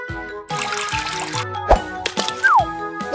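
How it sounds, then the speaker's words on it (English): Tap water runs over strawberries being rinsed, a steady trickling pour with a few drips and splashes at close range, alongside background music and scattered sound effects. "Turn on the tap, rinse it with running water"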